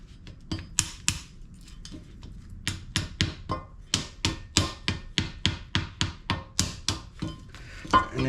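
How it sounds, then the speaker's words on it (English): A rubber mallet taps a new wheel seal into place on a Lexus GX460 during a wheel bearing replacement, a steady run of sharp, close knocks that quicken into an even rhythm, with no talking. "I use a rubber mallet."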